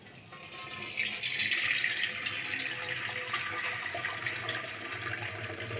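Whey drains from freshly made paneer through white cotton cloth into a vessel below, a continuous splashing trickle of liquid at moderate level that runs steadily throughout.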